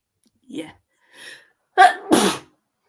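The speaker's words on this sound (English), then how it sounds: "Gesundheit." A single person lets out one loud, close sneeze, a sharp double burst that follows a couple of faint breathy sounds.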